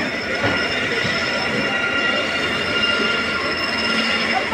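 A passenger train travelling from Delhi toward Saharanpur runs through Meerut City railway station, giving a loud, steady close rumble with metallic wheel squeal throughout and no pauses.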